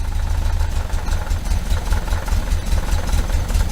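A 1973 VW Super Beetle engine on twin Dellorto FRD 34 carburetors idles steadily up close, a loud, even low rumble with a fast, regular pulse that holds without faltering.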